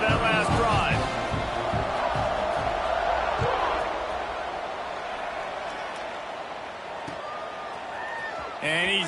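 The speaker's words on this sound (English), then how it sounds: "this crowd is feeling themselves after that last drive" A football stadium crowd at a college game, Louisiana Tech versus Bowling Green, as a sustained roar and cheering, with a commentator talking over it.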